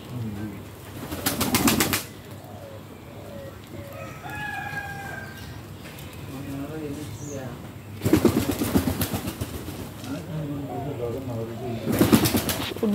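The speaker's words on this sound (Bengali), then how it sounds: "এগুলো হচ্ছে আমাদের কবুতর, দেখেন সবাই" Pet pigeons coo softly in a group, with a few higher bird calls and bursts of loud flapping wings close by.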